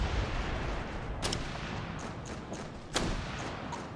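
Gunfire aimed at armored personnel carriers in the military shooter game Operation Flashpoint: Red River, a dense rumbling barrage with a couple of sharper reports standing out, loud and continuous.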